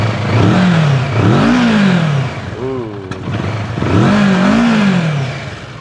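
A 2022 Kawasaki Versys 650 motorcycle engine idling and revved, rising and falling in several swells, close and loud, with a brief lull in the middle.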